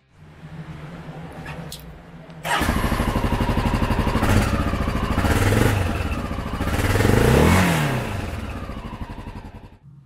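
A 2020 Honda XR650L motorcycle engine fires up after a quiet start and runs at a loud, steady idle with a couple of throttle blips rising and falling, close by, with no talk.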